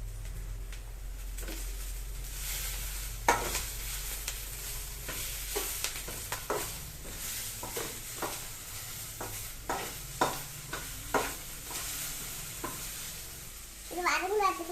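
Onion and tomato are sautéed for crab curry, a close sizzle under repeated scraping strokes of a spoon against the pan, with a brief voice near the end.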